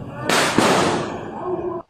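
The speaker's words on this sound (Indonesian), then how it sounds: "Sholat tarawih cepat diiringi dengan suara petasan dor-dor gitu ya" Loud firecrackers burst close by during a fast tarawih prayer at an Islamic boarding school in Blitar, one sharp crack followed by a dense crackling roar that fades out after under two seconds.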